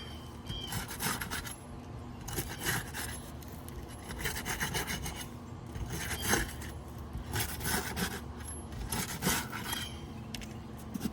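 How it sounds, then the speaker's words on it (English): Roof shingles are pried and scraped to break their tar strips, giving rough, repeated scraping and tearing bursts close by with no voices. "So we got to break the tar strips."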